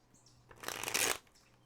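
A brief riffle of tarot cards being shuffled, a crisp fluttering burst lasting about half a second, close and fairly quiet, with soft rustling before and after.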